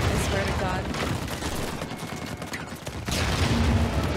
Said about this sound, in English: Why am I the only one getting shot at?